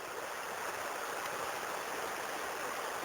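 Belichka River water rushes steadily through a valley, a constant broadband hiss of flowing current heard without any voices, fairly faint and unbroken throughout.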